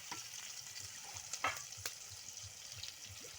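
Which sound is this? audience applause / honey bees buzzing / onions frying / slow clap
onions frying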